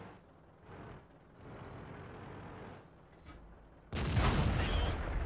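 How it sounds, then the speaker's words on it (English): Tank cannon fire in World of Tanks, driving the STA 1: engine rumble and mechanical clatter lead into a sudden loud, booming blast that rolls on with heavy reverberation. "Put a good shot into the back of his turret."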